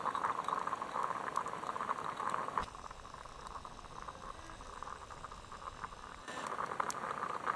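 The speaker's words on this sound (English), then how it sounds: "Hear my coffee? It's almost done." Coffee percolator bubbling over a campfire outdoors, a steady close boiling and gurgling patter that drops quieter midway before swelling again.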